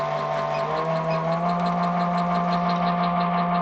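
A Bluewing line winder machine spools fishing line at about 350 RPM, giving a steady, even mechanical hum with a low drone that holds constant throughout.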